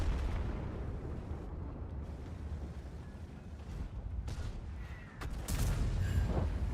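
In World of Tanks, a Ho-Ri 3 tank destroyer fires its cannon, a heavy booming blast that rises out of a steady rumble of battle noise near the end.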